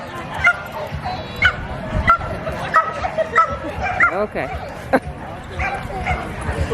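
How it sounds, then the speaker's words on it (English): A worked-up dog barking and yipping in short repeated bursts from a little distance, mixed with whimpers, while people talk nearby. "It's another worked up dog over there."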